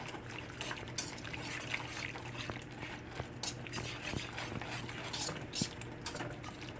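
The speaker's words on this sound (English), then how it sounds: "use my whisker and whisk it in, whisk it in" Flour is being whisked into a pan of vegan gravy, producing soft continuous wet swishing and faint metallic patter from the whisk, quiet and close, with no talking.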